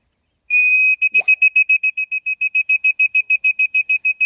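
A homemade whistle imitates the call of a bar-tailed godwit: one long, loud, piercing tone, then a rapid, regular series of about fifteen short, identical pulses, heard close and alone.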